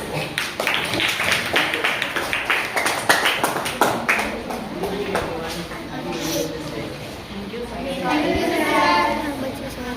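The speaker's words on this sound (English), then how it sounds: "Please welcome them with a big round of applause." Audience at an Independence Day celebration clapping to welcome guests, a burst of fairly close, rhythmic claps that thins out midway, with voices talking and murmuring underneath and afterward.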